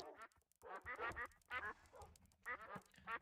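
A duck in a modded Minecraft game quacks in quick repeated bursts, a string of short nasal calls with brief pauses, faint and alone with no talk.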